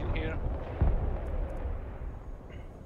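Artillery fire in the Broken Arrow multiplayer war game, a distant heavy boom and rumbling blasts over a dense battlefield bed, with faint voices underneath.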